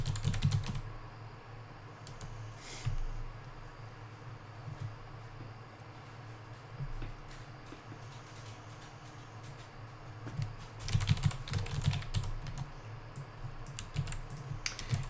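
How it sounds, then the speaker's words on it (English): Soft keyboard typing ticks away at a low level in a quiet room, with small bursts of clustered keystrokes near the start and a busier stretch toward the end, and no speech over it. "While he's typing."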